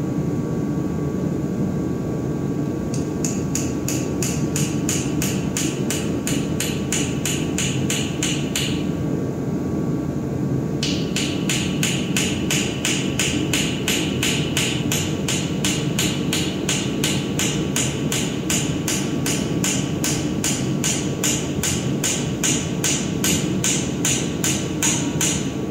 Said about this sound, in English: Take my little pecker hammer. We're going to try to drive these bad boys in.